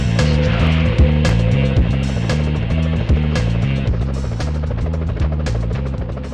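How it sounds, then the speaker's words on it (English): Police helicopters in the PlayStation Spider-Man game, a steady loud rotor drone with rhythmic low chopping layered under game music and sharp effect hits throughout. "Whoa, police choppers."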